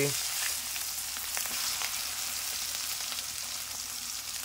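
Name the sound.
chopped onion added to hot oil, frying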